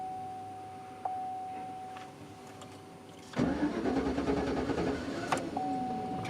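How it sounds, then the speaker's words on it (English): A Chevy/GMC flex-fuel engine running rich on almost no fuel cranks with a quick click, then a labored, churning starter whir that struggles without catching, heard up close over a faint electronic tone. "We'll fire it up here. She don't even want to start because she's got no fuel."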